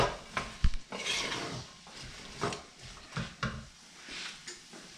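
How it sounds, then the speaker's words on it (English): Red onions stirred in a pot with a spoon while simmering, soft scraping and clanks of utensil on metal coming in irregular strokes, near and fairly quiet, no voices. "Here, Jake, you stir them bad boys."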